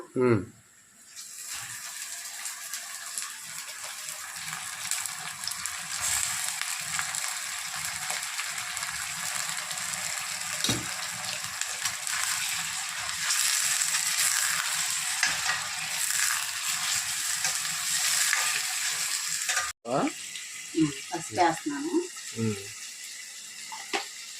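Chicken frying in a pan for a Sunday chicken fry, a steady loud broadband sizzle running almost the whole time with occasional stirring knocks and brief clatter near the end.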